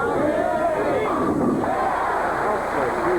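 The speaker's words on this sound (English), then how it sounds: "they're shouting Pete here" A packed crowd at a bowling tournament shouts a player's name, producing a loud, sustained roar of many voices that holds steady and close throughout.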